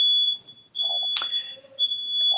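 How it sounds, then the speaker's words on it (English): A smoke alarm goes off while someone cooks, giving a loud, piercing, high-pitched tone that cuts out briefly and then resumes. Faint clatter and soft noises from the room sound between the tones. "That's the alarm going off. You know how the smoke alarm go off sometimes."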